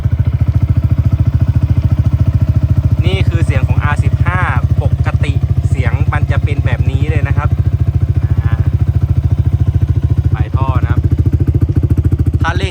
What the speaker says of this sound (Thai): ฟังเสียงเครื่องยนต์นะครับฟังเสียงเครื่องยนต์